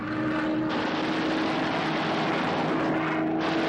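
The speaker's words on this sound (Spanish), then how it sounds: "Sus aviones permanentemente atacan las líneas de suministros japonesas, interrumpiendo su flujo." A World War II military aircraft engine drones loud and steady, a close, continuous propeller roar with no talk over it.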